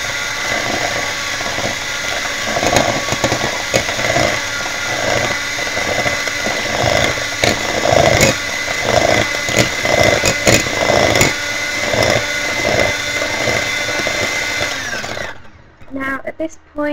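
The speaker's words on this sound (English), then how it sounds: "Now you get your electric whisk, you can start whisking, put on a very low level." An electric whisk on a low setting beats fairy cake batter in a bowl, a close continuous motor whine with rhythmic rattling pulses that cuts off abruptly near the end.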